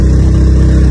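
A scooter engine runs loud and close, a steady low droning hum with a mid-pitched buzzing throb that holds constant over a brief moment, without any speech.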